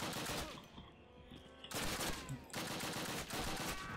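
Sustained gunfire from a G42 in the Call of Duty video game, loud dense bursts that break off briefly and resume, with game ambience underneath and no talking.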